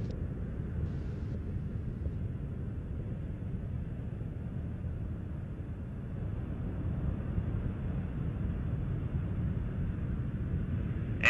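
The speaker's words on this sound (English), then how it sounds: "Three engines on Endeavour are now throttling back to two-thirds throttle" Space Shuttle Endeavour's three engines produce a steady, deep, distant roar throughout the launch ascent of mission STS-99, a continuous low rumble with little change, with no talk over it.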